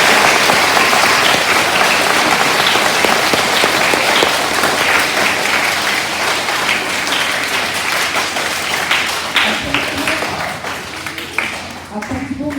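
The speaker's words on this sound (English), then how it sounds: "Can we please give the graduates another big round of applause?" A large school assembly crowd applauds graduates at a 2020 senior book awards ceremony, loud dense clapping sustained throughout and easing slightly near the end.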